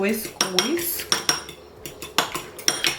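An egg is whisked quickly for a pastry egg wash, a fork clicking and scraping against a bowl in rapid bursts of clinks with short pauses between, close and distinct, no voices.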